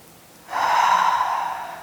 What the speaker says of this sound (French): prendre juste quelques respirations ensemble